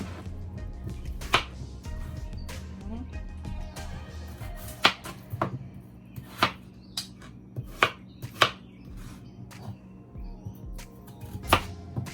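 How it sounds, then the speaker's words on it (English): Potatoes are sliced into small pieces with a knife, each cut landing as a sharp tap on a cutting board in an irregular rhythm, close and clear over a low kitchen hum. "I'm gonna go ahead and slice my potatoes in small pieces."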